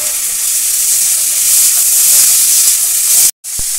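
Raw tomato and potato tipped into a pan of frying onions and chillies set off a loud, steady hiss of sizzling oil that holds strong throughout, then cuts out abruptly near the end before resuming.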